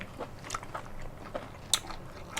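Crunchy bites and chewing of enoki mushrooms dressed in mala sauce, close to the mouth, with a few sharp crisp snaps standing out over soft, moist chewing.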